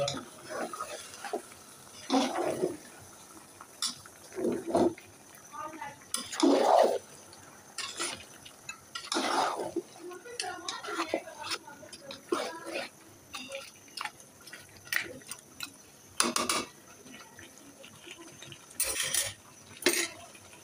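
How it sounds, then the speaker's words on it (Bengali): A kala bhuna beef curry is stirred slowly in a pot, with intermittent scraping and clinking of a spoon against the metal, close and moderately quiet, with scattered soft sounds between strokes. "আস্তে আস্তে আমি এটাকে নাড়াচাড়া করে দিচ্ছি"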